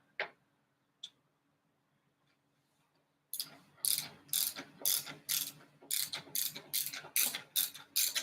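Socket wrench ratcheting on a bolt during teardown of a 2007 Toro Briggs and Stratton engine, a couple of isolated clicks then a steady run of loud, close, rhythmic ratchet strokes.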